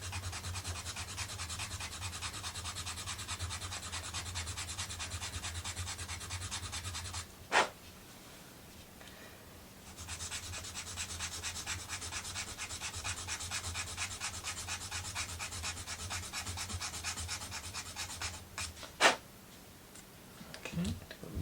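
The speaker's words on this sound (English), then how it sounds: "I'm gonna sand file down this bottom section" Sanding or filing the bottom section of a wooden Christmas book nook piece: long stretches of steady, rhythmic rasping strokes, close up, broken by a pause and a couple of sharp knocks.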